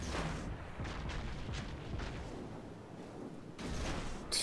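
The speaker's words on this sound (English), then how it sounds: "I just lost one of my turrets." Loud naval combat in World of Warships as a warship's main turret is blown up: a dense roar of booming blasts and rumble, with a sharp burst near the end.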